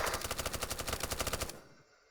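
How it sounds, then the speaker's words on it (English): Rapid automatic gunfire in a video game, a fast even burst of about twenty shots over a second and a half that then stops and leaves near silence. "Fire at will. You shoot until you have no more bullets."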